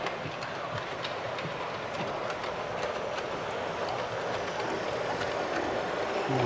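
Model railway locomotive running on track, a steady close rolling rumble with rapid light clicks of wheels over rail joints throughout.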